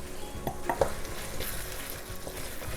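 Egg and soft tomato stir-fried in a pan without added water, with a steady low sizzle and a few quick scraping stirs of the spatula near the start, close and moderately quiet.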